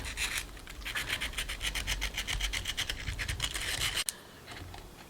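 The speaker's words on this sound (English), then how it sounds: "Now I'm just taking my really fine sandpaper and smoothing off those eyeballs." Fine sandpaper rubbing over the eyes of a paper mache panda, a steady rhythmic scratching of quick back-and-forth strokes close up, stopping abruptly near the end.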